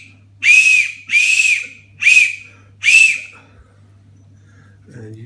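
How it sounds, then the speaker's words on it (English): A homemade whistle made from a .308 / 7.62 bullet casing is blown four times, each a short, loud, shrill blast with a breathy rush, spaced about a second apart, followed by near silence. "At this point I just test and make sure the whistle works."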